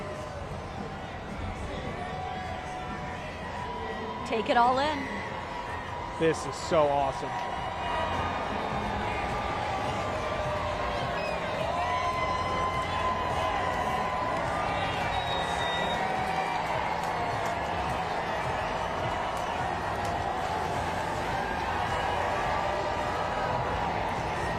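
Crowd at the Oklahoma City champions parade in downtown, a steady roar of distant cheering and whoops that runs throughout, with a nearby voice talking over it.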